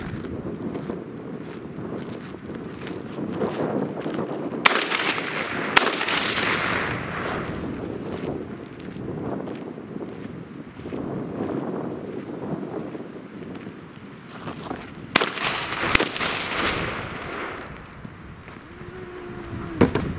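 Lee-Enfield rifle fired at close-quarters range outdoors, sharp loud shots around five and fifteen seconds over steady wind noise buffeting the microphone, with a laugh near the end.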